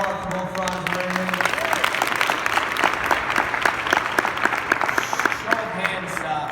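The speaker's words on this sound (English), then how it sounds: "One more round of applause for both Franz and Raymond." A conference audience claps in sustained, even applause, many hands close and dense throughout, with a voice briefly audible at the start.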